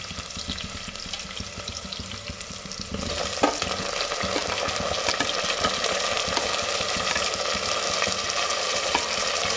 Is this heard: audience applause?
no